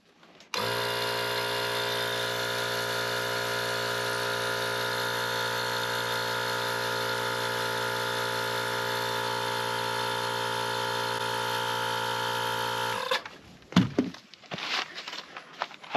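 A Bauer hand-held inflator runs for about twelve seconds pumping up a four-wheeler tire, a loud, steady electric motor whine with a buzzing tonal hum, then stops abruptly, followed by handling clatter.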